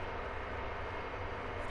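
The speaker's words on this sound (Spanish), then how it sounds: "El helicóptero." A helicopter flies in the Call of Duty Warzone video game, a steady low engine drone with rotor rumble holding at constant loudness for under two seconds, with no talk over it.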